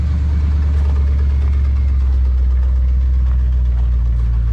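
A 1976 Chevy Cheyenne 4x4 engine runs loud and close with a deep, steady rumble at a rough idle and little change in pitch. No one speaks.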